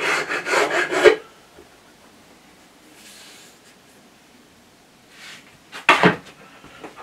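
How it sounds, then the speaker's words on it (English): A hand file cuts a chamfer along the edge of a metal sliding table tab, making a rapid burst of rasping strokes. The filing pauses, gives a faint scrape, then returns in a second short burst. "So all I'm doing is putting a little bit of a chamfer along that face there."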